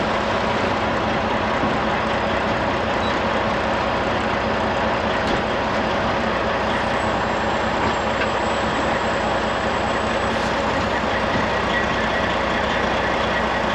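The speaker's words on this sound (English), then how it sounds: "These hydraulic trailers are quite the rigs." Hydraulic boat trailer hauling a sailboat out of the water at a haulout, a steady loud mechanical rumble and drone running continuously throughout with no talk.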